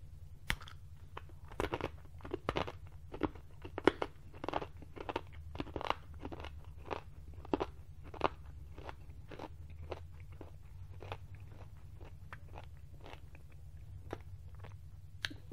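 Peanut brittle being chewed with dentures, a close, quiet series of sharp crunches and cracks repeating irregularly for the whole stretch, with no talking.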